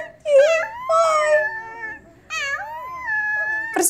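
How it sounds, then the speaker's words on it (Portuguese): A young wolf pup gives high, wavering howls in three drawn-out cries with brief pauses between, close and loud, its whimpering pitch rising and falling like a voice. "O uivo de um lobinho é a coisa mais fofa que você vai ouvir hoje"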